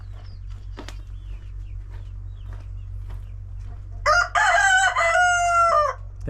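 A rooster on a village farm crows once, loud and near, in a drawn-out call that follows several seconds of quiet background hum and faint scattered clucks.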